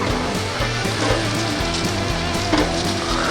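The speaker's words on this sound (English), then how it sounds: "So now we're gonna add our sausage to our grill." Sausages charring on a grill, a continuous close sizzle and crackle with a rhythmic low hum underneath, no talking.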